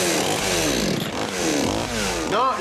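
A chainsaw runs steadily and loudly, its engine pitch rising and falling as it revs, close up throughout.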